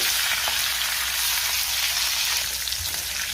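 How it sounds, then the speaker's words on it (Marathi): Brinjal (eggplant) pieces fry in a pan for a spicy Marathi khara vanga dish, giving a steady, close, even sizzle that hisses on without a break. "अगदी हलक्या हाताने व्यवस्थित आपण वांगी परतून घ्यायची"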